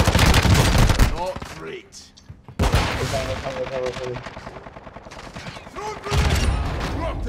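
Gunfire in Call of Duty Warzone, dense rapid automatic shots, loud and close, stop briefly and then return. A player speaks over it.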